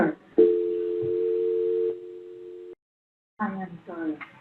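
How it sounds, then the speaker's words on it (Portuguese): A steady telephone tone sounds on an Issabel PBX phone line after dialing star two, holding for a couple of seconds before cutting off, then a voice speaks briefly afterward. "depois que eu disquei asterisco 2, ele gerou o tom, ficou por 3 segundos"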